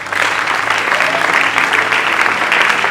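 A church congregation applauds during an ordination, making loud, sustained clapping close by with a murmur of voices underneath.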